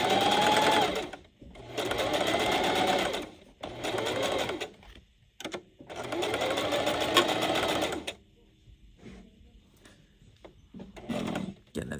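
A sewing machine stitches fabric in several close bursts of rapid mechanical whirring, separated by pauses with small handling clicks and quiet bits of speech.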